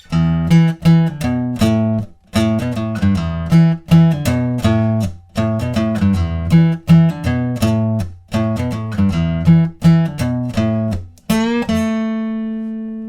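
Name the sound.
guitar playing song intro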